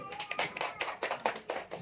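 Audience at an outdoor religious gathering in Cikalong, Sidareja, Cilacap claps together in a brief, loud burst of rapid hand claps, dense and close, with a faint voice mixed in.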